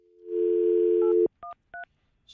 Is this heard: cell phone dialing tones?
yes